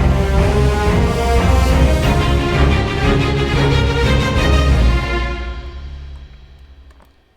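Orchestral arrangement of the Final Fantasy VII battle theme, C section: dense full-ensemble music with driving low strings and brass, sustained loud before thinning and fading out over the last two seconds.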